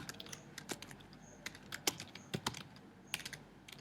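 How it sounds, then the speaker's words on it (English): Typing on a computer keyboard, quick irregular key clicks in short bursts, close but fairly soft, heard alone without talk. "You just type in their email here and add a message."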